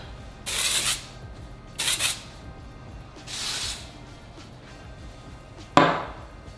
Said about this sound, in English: I'm now gonna take my dry shampoo, shake it up really good. And I'm just gonna spray.